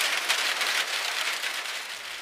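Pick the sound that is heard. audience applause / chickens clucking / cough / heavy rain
heavy rain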